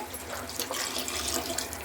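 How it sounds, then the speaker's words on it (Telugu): Water pours steadily into a pot of vegetable rice in a continuous broadband splashing rush, close and fairly loud, with no voices. "ఇప్పుడైతే వాటర్ పోస్తున్నానండి."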